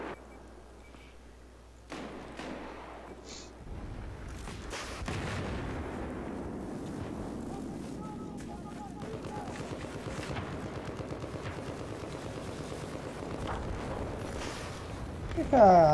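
Rapid bursts of gunfire and booming explosions from an EA game shown at E3 2018 rattle on continuously, with a voice speaking Portuguese over the din.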